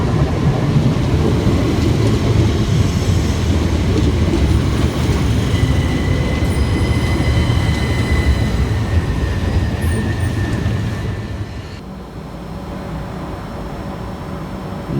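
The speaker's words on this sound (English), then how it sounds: "Southeastern service from Ashford International through to London Charing Cross with 377505 and 377121" A Southeastern Class 377 electric train passes close at Waterloo East, a loud continuous rumble of wheels on rails with a faint squeal, easing off near the end.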